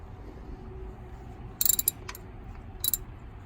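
Metallic ratcheting clicks from a 13 mm wrench loosening a car's oil drain bolt during an oil change, two short bursts of clicks over quiet background hum.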